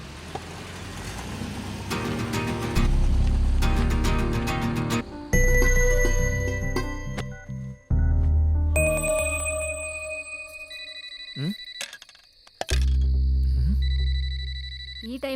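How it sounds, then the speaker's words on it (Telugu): A phone rings with a bright electronic tone repeating over a loud musical film score, while people talk around it. "ఈ టైంలో తినేటప్పుడు ఫోన్ ఎవడయ్యా?"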